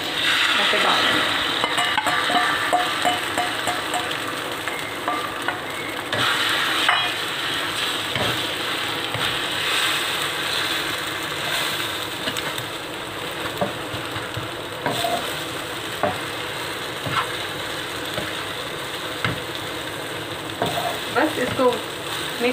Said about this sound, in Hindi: और थोड़ा पका लेना है ताकि अंडों का कच्चापन ख़त्म हो जाए